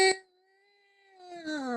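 A person's voice imitates a cat in heat, with a short wailing cry, a long drawn-out yowl that holds steady, then a louder, rougher rising caterwaul at the end, close and alone.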